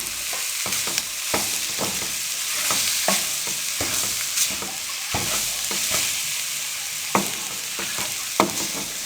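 Samosa filling being stirred and fried in a pan, with a steady sizzle broken by repeated close scrapes and knocks of the spoon against the pan at an irregular rhythm, no voices.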